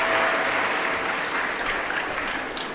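Loud, sustained applause from a large audience at a Shiv Mahapuran religious discourse, dense clapping that holds steady for the whole moment with no voices over it.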